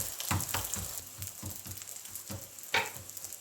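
Msemen flatbread cooking in a frying pan, giving off a soft, steady sizzle broken by small rhythmic crackles and pops, quiet and close, with no talking.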